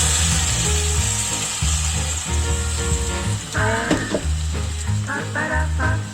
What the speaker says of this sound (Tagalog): Ilagay na natin ang ating kalderita sauce.